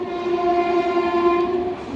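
A train passes close by, its loud sustained horn-like tone droning steadily over a rumbling rail background for about two seconds.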